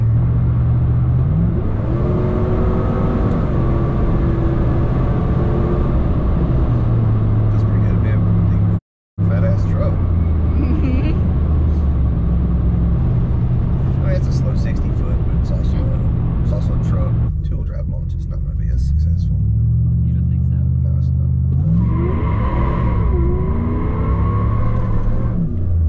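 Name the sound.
truck engine accelerating during baseline testing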